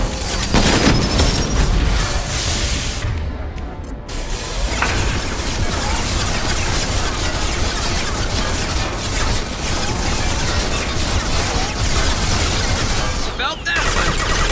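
Dense, continuous gunfire and impact blasts fill a combat scene in the video game Mass Effect 2, loud and sustained with rapid overlapping shots and booms throughout.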